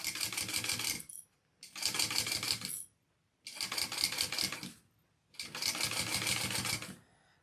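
An electric sewing machine stitches through a bag's base piece and bulky seam allowance in four steady bursts of about a second each, separated by short pauses, close and clear.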